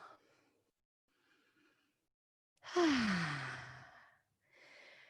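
A single long audible exhale in a yoga flow, close and breathy, falling off gradually over about a second, with softer breaths before and after in a quiet room.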